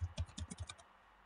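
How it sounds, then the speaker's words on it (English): A password being typed on a computer keyboard, a quick run of six or seven soft, close keystrokes in steady rhythm, then quiet. "I'm going to type it."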